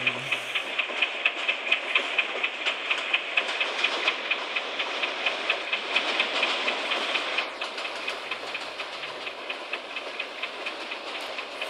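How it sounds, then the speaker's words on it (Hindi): An Indian electric locomotive in a train simulator game runs at full speed, around 100, with a rapid, even clatter of wheels over rail joints above a continuous engine hum and hiss, steady throughout with no voices. "फुल स्पीड 100 के आसपास चल रही है"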